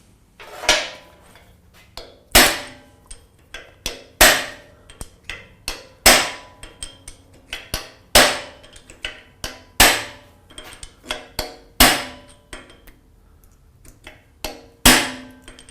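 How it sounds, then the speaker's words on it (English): Hammer striking a transfer punch to mark hole centers for hydraulic lines, sharp metallic taps in an uneven repeating rhythm, about a dozen strong blows between lighter knocks, close and clear with no talk. "This transfer punch fits nice and snug, so we're confident we got good center punches where those holes need to be."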